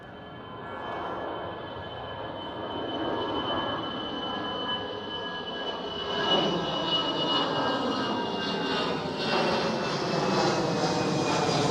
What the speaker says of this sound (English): This is EasyJet A320.